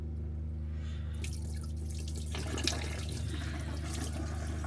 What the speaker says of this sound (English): Water's on. You can hear the pump going. We have hot water!